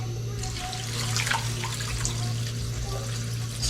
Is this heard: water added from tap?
yes